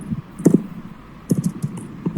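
Slow keystrokes tap on a computer keyboard, spaced in a few small clusters of close, crisp clicks with pauses between them and no voices.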